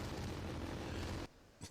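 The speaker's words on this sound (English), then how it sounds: "That's more like a firework display." A dense, loud rumbling burst of game fireworks explosions that cuts off abruptly, followed by one brief fainter pop.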